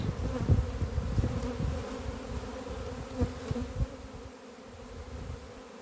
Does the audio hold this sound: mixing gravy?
no